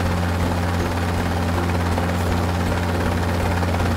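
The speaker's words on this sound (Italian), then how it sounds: "Guardate là, c'è l'elicottero che vola via." A cartoon helicopter drones with a steady, loud rotor hum and low buzzing throb, holding constant without fading throughout.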